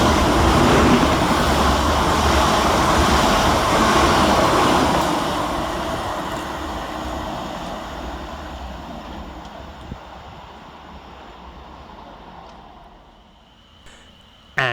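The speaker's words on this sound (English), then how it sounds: "And our train now approaches in the form of 450-034, 450-044 and 450-023" A South Western Railway passenger train, a three-unit Class 450 electric set, runs into Rowlands Castle station with a loud rolling rumble that slowly fades as it slows, then a brief squeal near the end.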